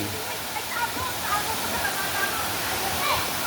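River water in Catanuan, Quezon, running down from higher ground, makes a steady, close rushing hiss that fills the whole stretch evenly, loud and constant without breaks.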